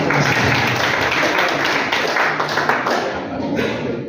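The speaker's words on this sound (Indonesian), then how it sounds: "Ya, tepuk tangan." An audience at an evening entertainment show applauds, a dense, steady wash of clapping that stays loud and continuous throughout, with no voices over it.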